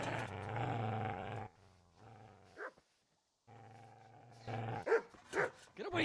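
A dog in the game Kingdom Come: Deliverance growls low and steadily, breaks off, then snarls and barks in sharp bursts close by, with a short silent gap between.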